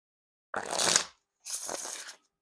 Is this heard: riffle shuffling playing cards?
yes